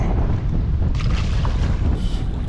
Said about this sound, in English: Super windy, crazy windy.